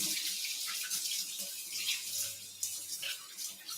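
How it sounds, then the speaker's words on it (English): Tap water running steadily into a sink while hands are washed before cooking, a close continuous splashing rush with small shifts as the hands move through the stream. "I'm washing my hands first."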